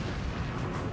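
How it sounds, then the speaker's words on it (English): The battleship Bismarck fires a broadside from her eight 15-inch guns: a single loud, heavy, rumbling boom that fills the whole brief moment. "Bismarck fires her 8 15-inch guns,"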